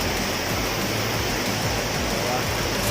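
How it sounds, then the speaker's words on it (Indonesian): Mengaya waterfall in Takengon, Central Aceh, a steady dense roar of falling water filling the whole stretch, loud and unbroken with no voices. "Nah, air terjun bisa kita lihat"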